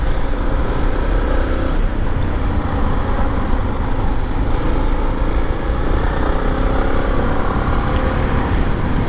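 Two motorcycles, a Suzuki DR650 and a Royal Enfield Himalayan, ride along on a shakedown trip, giving a loud, continuous engine drone mixed with heavy wind rush, steady throughout with no breaks.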